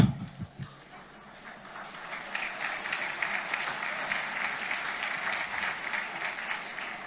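A crowd breaks into steady, sustained applause during a speech by Javier Milei, holding at an even level, following a few brief sounds at the start.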